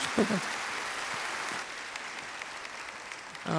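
A church congregation claps in blessing during a Sunday worship service, a steady, even spread of many hands that softens midway, with a brief voice at the start and end.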